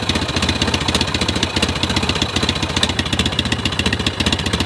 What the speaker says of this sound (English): It's a parallel twin, and it has an awesome sound out of the exhaust.